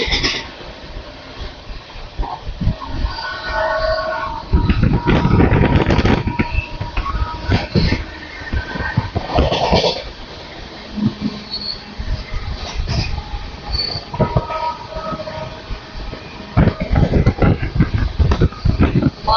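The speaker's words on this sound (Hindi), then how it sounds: "ये है बिहार संपर्क क्रांति का भोकाल, ज़बरदस्त ट्रेन है यार।" Bihar Sampark Kranti Express (12566) racing through a small station at speed, loud rumbling wheels and rattling coaches with bursts of roaring noise and clatter that swell and fade repeatedly, close by and filling the whole stretch.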